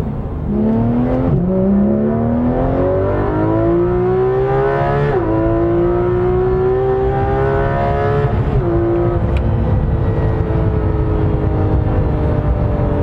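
A Porsche 911 GT3 RS of the 991 generation revs hard and close, climbing through the gears with several upshifts, each dropping the pitch before it rises again, loud and steady throughout with no talk.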